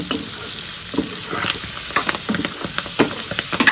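Fenugreek leaves fry in hot oil beside potato pieces, giving a steady bright sizzle broken by scraping, stirring strokes that grow busier toward the end.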